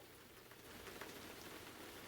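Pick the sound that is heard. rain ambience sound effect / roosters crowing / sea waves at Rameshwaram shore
rain ambience sound effect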